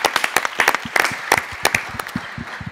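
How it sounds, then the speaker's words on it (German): A small audience applauds at the launch event of the nationwide Sommer der Berufsbildung in Koblenz, loud close hand claps in a brisk, uneven patter that holds steady throughout. "Das ist auch nochmal ein Applaus wert"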